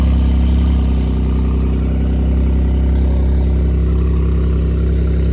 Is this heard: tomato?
no